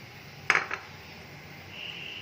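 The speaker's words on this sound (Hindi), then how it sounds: "मुसलसल चम्मच चलाना है ताकि नीचे ना लग जाए।" A metal spoon stirs roasted vermicelli in a pan, giving a couple of quick close clinks against the pan amid a low, steady background hiss.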